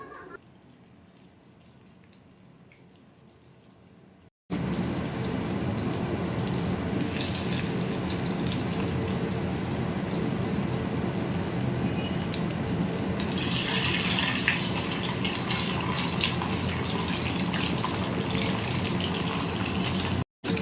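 Marinated chicken leg pieces fry in hot refined oil with a loud, steady, close-up sizzle. It starts after a few seconds of quiet, swells briefly partway through, then cuts off at the very end. Nobody speaks.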